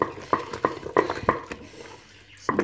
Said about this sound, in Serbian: Ponovo mešamo.